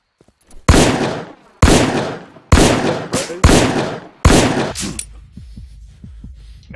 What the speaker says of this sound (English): Are you hearing those gunshots?